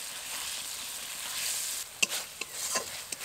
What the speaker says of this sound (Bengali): এবার তেল ছাড়া পর্যন্ত মশলাটাকে ভালো করে কষিয়ে নেব।